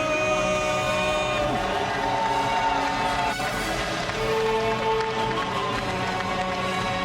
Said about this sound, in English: The sound system and the thunder in the crowd, you can hear there are a lot of fans